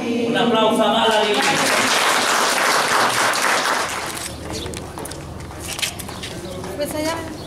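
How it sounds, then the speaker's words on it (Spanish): Crowd applause at a three-year-old's birthday party at a hacienda venue, loud and dense for about four seconds, then fading into scattered claps, chatter and background noise. "Un aplauso a Dalari."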